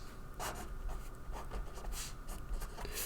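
Marker or chalk writing an implication arrow on a classroom board, with a few short scratchy strokes in quick succession, close and fairly quiet, with no talking.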